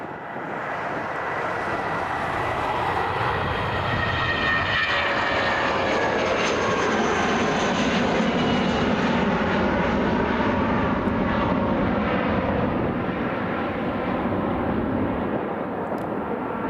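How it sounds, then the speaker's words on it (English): A 22-year-old British Airways Airbus A319 departs Dublin Airport for London Heathrow, its jet engines giving a loud, steady roar with a slowly shifting whine for the whole stretch. "BA 837, this Airbus A319 heading over to London Heathrow, operated by British Airways"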